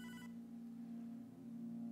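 A telephone rings in the video game Hotline Miami 2, heard as a short electronic ring burst at the start over a low steady hum, faint and close.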